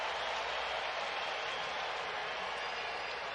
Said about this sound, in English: Crowd is sensing a possible striking out of the side.